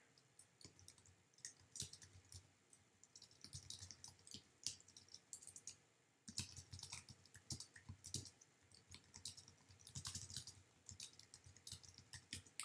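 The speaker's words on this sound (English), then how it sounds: "I'm typing this in here." Keyboard typing at a computer during a live sports-betting picks broadcast: quiet, irregular bursts of clicking keys in uneven clusters, close and faint, with no talking.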